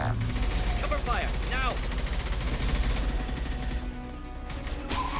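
Bursts of gunfire rattle through a firefight in Mass Effect 2, with rapid shots and echoing blasts under game sound effects and a voice calling out.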